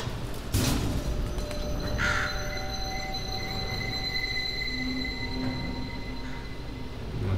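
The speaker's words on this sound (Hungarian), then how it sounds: "Már kiszabadult a madár." A bird chirps and calls as it is freed from its cage in the puzzle video game The Room 3, heard as a few clear tonal cries over a steady ambient drone with no talking.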